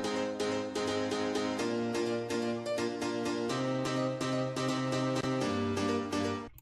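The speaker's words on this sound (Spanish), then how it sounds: "En sí todo el piano suena así." A piano track from an FL Studio production plays steadily with repeated rhythmic chords and a bright melodic line, loud and continuous with no voices.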